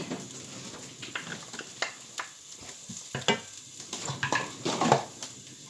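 Garlic sizzles in a pan with softened onions as the sauce for a Goan curry starts to build, with a steady hiss under close scraping and stirring clatter from a utensil.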